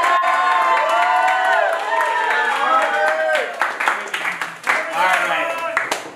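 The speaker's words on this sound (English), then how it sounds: "Let's give one more round of applause for the birthday boy," A birthday party audience claps and cheers, with excited voices and high shouts layered over a burst of applause that grows more scattered and choppy toward the end.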